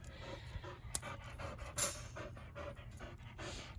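A Belgian Malinois pants steadily and rapidly close by, a continuous breathy rhythm with a couple of brief sharper bumps, and no talk over it.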